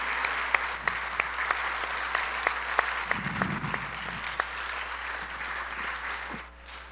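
A church congregation claps during a sermon, steady moderate applause with sharp individual claps standing out, mid-distance, fading out near the end.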